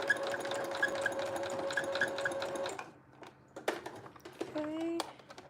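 A sewing machine stitches an elastic band down with a steady rapid whir for a few seconds, then stops, followed by handling clicks and a short squeak nearby.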